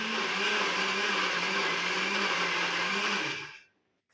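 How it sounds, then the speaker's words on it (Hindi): A blender whirs loudly and steadily as it mixes chocolate cake ingredients in a blending jar, a constant motor drone that winds down and cuts off near the end, leaving silence. "तो यहाँ पर जो केक का सारा इंग्रेडिएंट था वो मैंने एक ब्लेंडिंग जार में डाल दिया है और बस आपको इसे ब्लेंड कर लेना है।"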